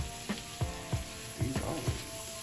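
Spoon scraping and stirring a sausage gravy mixture in a hot pan, several distinct rhythmic strokes over a steady background sizzle, close and moderately quiet.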